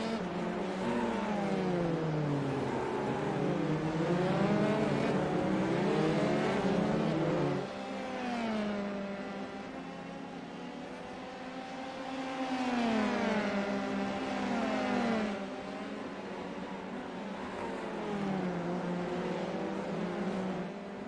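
Formula 3 race cars in a League Zero racing sim roar past, engines rising and falling in pitch as they accelerate and shift through corners, a steady loud drone over about twenty seconds.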